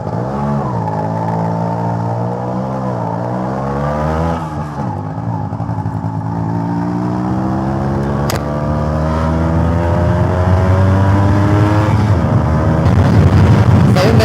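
A 2002 Suzuki Samurai two-stroke motorcycle being ridden: a loud, buzzy engine note climbing through the revs, dropping at gear changes, then rising steadily again, heard up close without talk.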